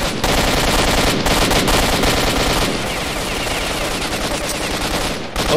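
Enemy automatic gunfire rattles through a wall in S.T.A.L.K.E.R.: Shadow of Chernobyl, loud dense bursts of rapid shots that run almost without break, with a brief gap early on.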